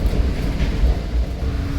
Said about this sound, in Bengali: দেখো ট্রেন কেমন চলছে মনে হচ্ছে একদম আসতে